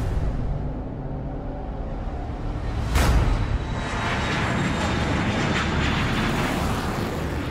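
Airplane flying overhead, a steady loud engine roar with a brief swell in the middle, heard with no talking.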